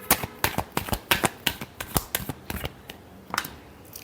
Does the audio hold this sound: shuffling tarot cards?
yes